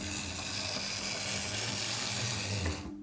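A Bachmann J72 model steam locomotive running back and forth along its track, giving a steady mechanical whirr and rattling hum throughout that cuts off near the end, with no talking.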